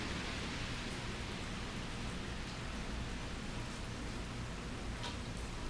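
Steady thunderstorm rain pours down continuously in Fort Lauderdale, Florida, as a dense, even hiss with no voices or breaks.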